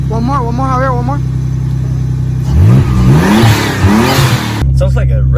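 Twin-turbo Nissan 300ZX on catless downpipes revving hard, a loud close engine note that climbs in sharp bursts, with people talking and shouting over it.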